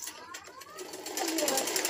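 A sewing machine stitches fabric for a suit with a fast, steady mechanical whirr and ticking needle rhythm, close up, while a voice talks over it.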